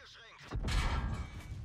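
Artillery fire in World of Tanks, a heavy booming blast rising abruptly and rumbling low, following a brief burst of speech.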